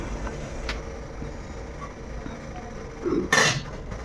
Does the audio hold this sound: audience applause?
no